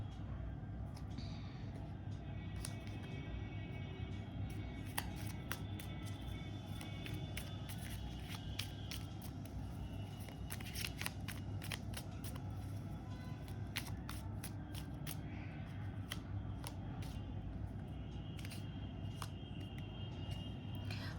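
Tarot cards are shuffled and drawn by hand in a quiet room: soft, rapid riffling and sharp little flicks in irregular bursts, faint and close.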